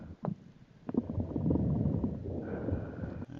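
Bubbling, gurgling lung sounds heard through a stethoscope in a paramedic video game, a faint crackle and a few soft clicks followed by a sustained low wet rumble.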